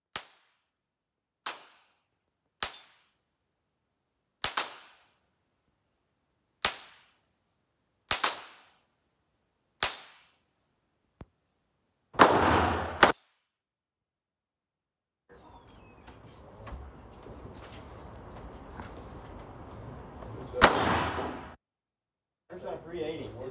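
Outdoor shooting practice: eight or so sharp, evenly spaced gunshots crack one after another, followed by a noisier stretch with one more loud shot near the end, while people talk.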